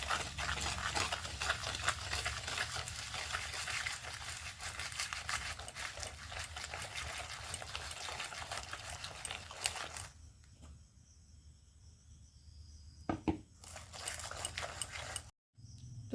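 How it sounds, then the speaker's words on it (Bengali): An electric blender whisks mango cake batter made with semolina, giving a continuous whirring buzz for about ten seconds that then cuts out, followed by a few short bursts. "আমি এখানে ব্লেন্ডার দিয়ে ফেটাচ্ছি"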